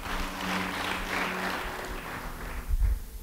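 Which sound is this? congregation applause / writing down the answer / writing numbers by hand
congregation applause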